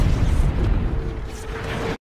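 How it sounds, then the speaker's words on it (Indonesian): An alien spaceship in a film explodes after a thrown bomb, a dense, loud roaring blast that rumbles for about two seconds and then cuts off abruptly. "Dan kapal alien itu pun meledak beserta aliennya."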